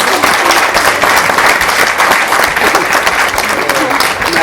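Wedding guests at a reception speech clap loudly and cheer for the bride, producing a full, dense burst of applause mixed with whoops that stays strong and close the whole time.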